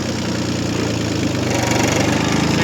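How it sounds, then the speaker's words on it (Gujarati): A steady, loud tractor engine idles close by with a low, even rumble and slight knocking pulse throughout, no voices. "આપણે હવે ટ્રેક્ટર ચાલુ કરવાનો છે"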